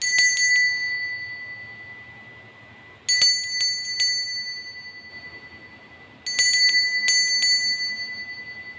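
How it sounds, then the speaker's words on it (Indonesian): A bright bell rings in three separate bursts, each a quick cluster of metallic dings that ring out and fade before the next. "Kita akan mulai saja dengan ditandai lonceng berbunyi."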